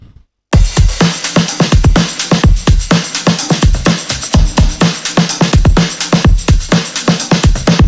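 A full drum groove plays loud and alone, punchy kicks and snares driving a steady beat with jingling tambourine and a crash cymbal layered on top.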